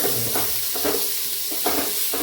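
Chopped onion hitting a hot oil pan for chicken dum biryani, a steady close sizzle with a few louder surges as it is stirred, no voices.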